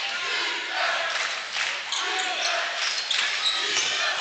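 Crowd noise at a women's college basketball game, a broad murmur of cheering spectators in an arena at moderate distance, with an announcer's voice faintly over it and a brief ball bounce.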